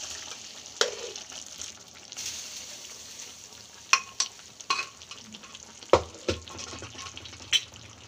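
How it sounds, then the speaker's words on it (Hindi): Cooked vegetables tipped into a pan of frying masala for Mumbai-style pav bhaji, giving a low steady sizzle with clattering stirs and several sharp scrapes and knocks of a spoon against the pan. "अब मैं इस सारी सब्जियों को मसाले में ऐड करूँगी।"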